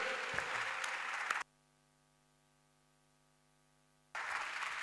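A church congregation at a solemn convocation breaks into a loud burst of applause, which stops abruptly during a sustained, steady tonal drone, then resumes just as strongly at the end.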